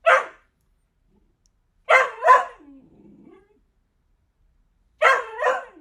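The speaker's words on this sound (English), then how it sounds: "My dog is barking." A dog barks in a quiet indoor room, a single sharp bark followed by a quick pair of barks, a faint low grumble, then another double bark, close and loud with no talk.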